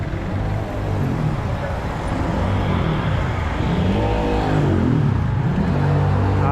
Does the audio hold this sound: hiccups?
no